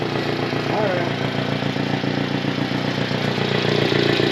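Restored mini truck engine idling steadily up close with an even mechanical clatter, a voice speaking briefly over it.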